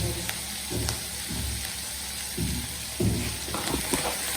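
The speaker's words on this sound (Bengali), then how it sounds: "আমার মশলাটা কষানো হচ্ছে" Whole spices frying in hot oil in a pan as they are sautéed for a fish-head curry, giving a steady close sizzle with intermittent louder bursts and crackles as they are stirred.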